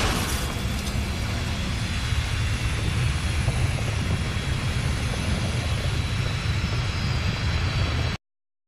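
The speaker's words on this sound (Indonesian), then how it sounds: "Mereka melakukan perjalanan mereka sendiri dengan menaiki pesawat tempur melintasi Amerika Serikat" A fighter jet flies past as a dense, loud, continuous roar of rushing noise that holds steady for about eight seconds and then cuts off abruptly.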